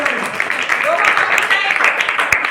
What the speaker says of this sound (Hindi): तान्या के लिए भी बहुत जोरदार तालियां।